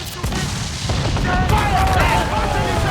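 Ship cannons firing in Assassin's Creed 4: Black Flag, a dense rumble of booming broadside shots over a naval battle, with shouting voices over the steady roar.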